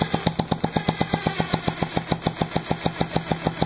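A steam-powered weed eater two-stroke engine with no modifications chugs steadily at close range, a fast, even train of loud exhaust beats roughly six per second with a constant high whine above, alone without speech.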